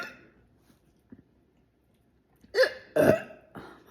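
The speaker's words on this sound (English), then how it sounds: "Hiccups." Hiccups after eating a hot dog and drinking Coke Zero cherry soda: a few faint small clicks, then three sharp, close hiccups in quick succession near the end, with no talking.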